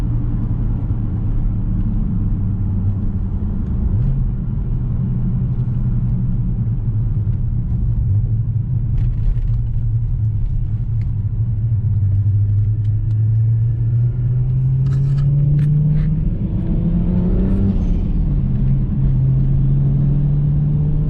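A 600-horsepower single-turbo BMW 335i accelerates hard through third gear on a cold day. Its loud, close engine note climbs steadily in pitch, drops briefly at a shift, then rises again, all with no talking.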